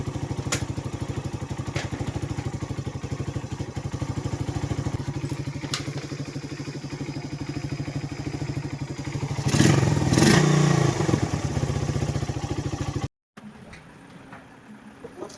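A motorcycle engine with a faulty carburetor idles with a rough, uneven throb, then revs briefly with some clattering before cutting out abruptly.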